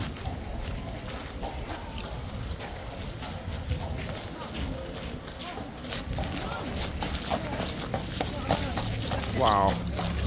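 Hooves of a King's Guard horse clip-clop on hard ground as it is led out for loading, a steady scattered clatter in a busy outdoor setting with background murmur and voices.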